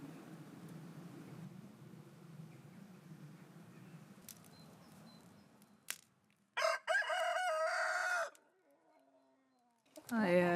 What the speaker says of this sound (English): I get really stressed out by the rooster